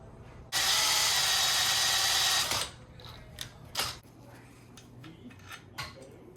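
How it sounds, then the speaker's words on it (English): A power drill bores into a metal bracket held in a mount during a motor swap on a Razor MX125 electric dirt bike. It gives one loud, steady whine of about two seconds, then stops, followed by a few faint clinks and handling clatter. "I'm gonna use this mount right here to hold the bracket while I drill."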